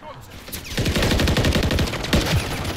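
SMG bursts in Modern Warfare III: a brief lull, then a fast, continuous rattle of close automatic fire with a few sharper cracks before the end.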